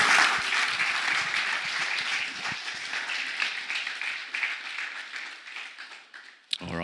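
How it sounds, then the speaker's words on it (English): An audience at a Sunday church gathering claps in sustained, fairly close applause that slowly tapers off, with a brief sharp noise at the end. "Let's give a round of applause."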